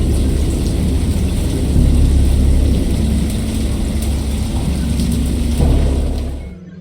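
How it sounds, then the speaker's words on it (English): A thunderstorm with rain from the video game Dagon, heard as a dense, steady roar of heavy rain with low rumbling swells. It stays loud and continuous and then cuts off abruptly at the end. "I heard pearls of thunder and other tones which nature utters only in her wildest moods"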